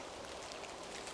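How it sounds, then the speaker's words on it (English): Frozen ice dropping from frosted trees in winter woodland after a hard overnight frost, a steady dense patter like light rain, continuous and fairly quiet throughout with no talking. "it's just all the frozen ice just falling off the trees"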